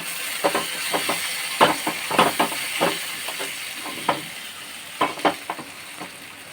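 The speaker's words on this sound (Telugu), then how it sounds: "ఇదిగోండి ఇంగు వేస్తున్నాను ఈ పోట్లో." Asafoetida hits hot oil in a pot for a mixed vegetable curry with tamarind, and a steady close sizzle follows, broken by repeated stirring clinks and scrapes.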